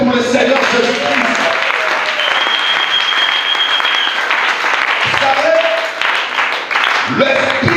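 A church congregation applauds and cheers for Jesus Christ during a Sunday service, a loud, dense, sustained round of clapping with voices mixed in, fading briefly before swelling again.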